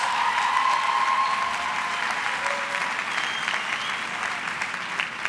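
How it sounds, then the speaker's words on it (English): Sustained audience applause at a university autumn graduation ceremony, a dense, even wash of many hands clapping in a large hall, holding steady for over five seconds with a faint tone drifting through. "give them a round of applause, please"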